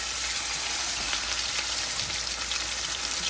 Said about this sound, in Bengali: এই তেলের মধ্যে এটা ভাজবো